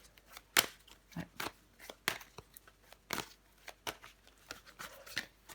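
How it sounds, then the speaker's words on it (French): Tarot cards handled and turned over on a table, a steady run of soft slaps, flicks and rustles at close range with irregular rhythm, no voice. "on va recouvrir des cartes"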